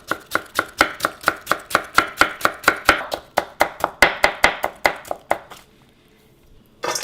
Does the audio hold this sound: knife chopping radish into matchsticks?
yes